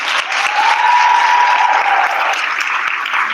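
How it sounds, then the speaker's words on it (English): A seated audience at a Bharatanatyam arangetram claps steadily for the dancer, a dense, loud, even wash of applause sustained throughout without letting up. "Please give a round of applause for Nishi"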